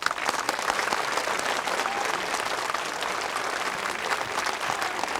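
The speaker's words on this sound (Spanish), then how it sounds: "¡Aplausos!" A group of people in a Spanish-language Christian film scene applauds together, a steady, even wash of clapping at moderate volume that carries on without pause and with no speech over it.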